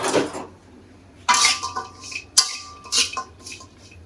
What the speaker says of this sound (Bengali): এই যে কাঠখোলায় মানে শুকনো কড়াইতে ভাজবো